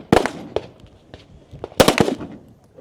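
Pistol shots fired off-hand at a Nevada regional shooting match, sharp close cracks spaced irregularly, with a quick cluster of several rapid shots partway through.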